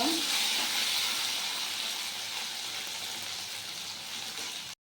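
Boiled potatoes frying in a pan with whole cumin seeds, a steady bright sizzle and hiss throughout that cuts off abruptly at the end.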